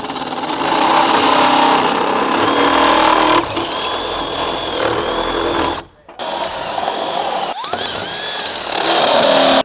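A power tool bores out a wiring grommet hole in an off-road vehicle's roof panel, a loud close whine with a harsh grinding edge that runs in long bursts and stops briefly near the middle before starting again.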